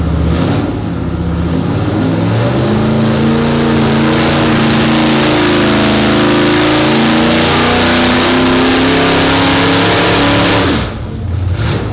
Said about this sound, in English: so we did our first dyno pull